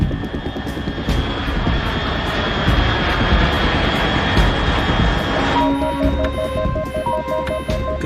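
A steady, loud engine roar of an aircraft passing overhead in Metal Gear Solid 3, continuous rumble and whine throughout, with a tonal shift and faint beeping radio tones near the end.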